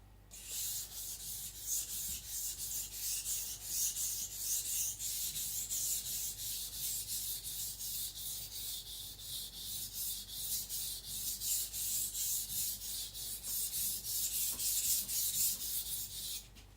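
A knife being thinned and sharpened on a whetstone, heard as steady rhythmic scraping strokes, close and even, continuing without pause for the whole stretch with no speech.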